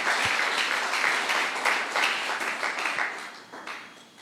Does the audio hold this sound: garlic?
no